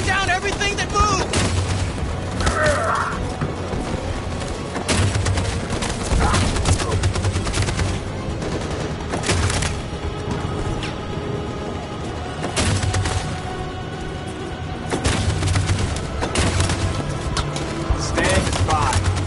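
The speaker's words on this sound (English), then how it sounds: "That machine gun is taking down everything that moves!" Sustained machine gun fire and explosions in the video game Detroit: Become Human, loud and dense with repeated bursts and booms across the whole stretch, with voices shouting over the battle.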